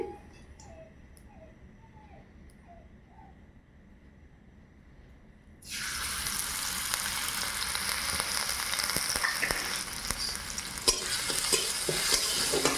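Ginger and chopped garlic hit hot oil in a pan for a chicken momo sauce, bursting into a loud, steady sizzle with stirring clicks after a quieter lead-in, close and continuous.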